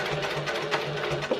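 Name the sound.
sewing machine top stitching a wallet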